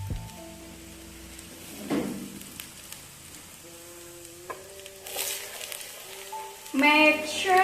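Garlic sizzles in a little oil in a hot saute pan, a soft, steady crackle that is mostly faint, with clinks and a brief louder swell near the end.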